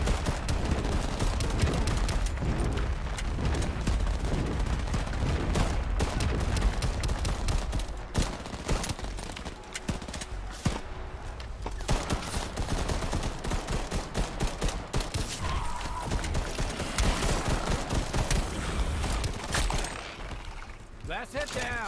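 Gunfire in the shooter video game Shatterline: dense, rapid bursts of automatic fire and repeated shots running almost nonstop for over twenty seconds at a steady, fairly loud level.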